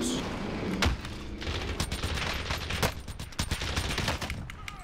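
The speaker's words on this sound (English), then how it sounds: "The nail gun." A nail gun fired in the video game Warzone, shown as a rapid run of sharp, punchy shots in bursts over a low rumble of background game sound.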